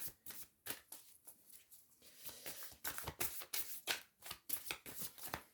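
Tarot cards being shuffled during a horoscope reading, a quiet run of quick papery riffles and soft slaps in an uneven rhythm, close to the microphone with no talking.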